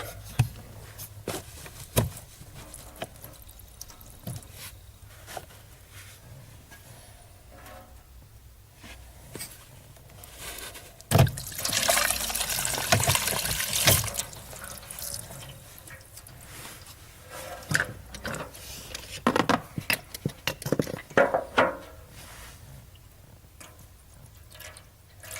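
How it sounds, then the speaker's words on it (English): Antifreeze drains through a funnel into a catch pan beneath a 2005 Jeep Grand Cherokee WK during heater core work, with trickling and dripping liquid, a louder gushing splash burst midway, and scattered close clunks and handling noises. "It's catching all the antifreeze and channeling it to my kick pan here"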